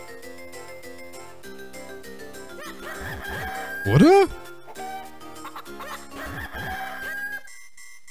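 Chickens in the Zelda Minish Cap video game cluck and squawk in short bursts over looping game music, with one loud crowing-like squawk midway; someone talks briefly.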